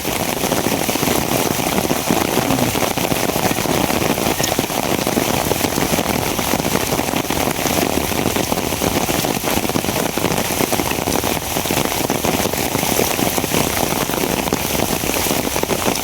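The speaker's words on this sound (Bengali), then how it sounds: "এইভাবে যদি বৃষ্টি শুরু হয়ে যায়" Steady heavy rain pours onto surfaces in a loud, continuous wash that never lets up.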